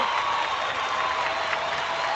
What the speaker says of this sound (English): a massive round of applause and a pat on the back